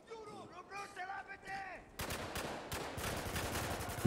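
Gunfire in the video game Spec Ops: The Line, a burst of dense, sharp shots and rattling fire that erupts halfway through and keeps going, loud and close, after an opening stretch of game voices talking.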